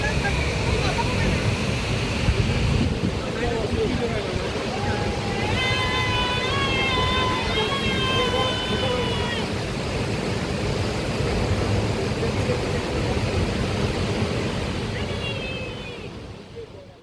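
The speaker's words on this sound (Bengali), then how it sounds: "এই জলধারা তীব্র বেগে ঝাঁপিয়ে পড়ছে তাওয়াং নদীতে" Nuranang waterfall in Arunachal Pradesh plunges about 100 meters into the Tawang river, a steady broadband roar filling the scene, with faint whistle-like tones and a voice briefly audible in the middle.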